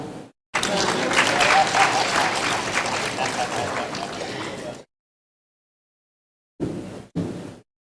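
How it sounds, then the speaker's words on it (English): An audience at a summit assembly gives a warm round of applause, a loud burst of many hands lasting about four seconds before cutting to silence, then two brief sounds. "Once again, a warm round of applause for Ms. Caroline"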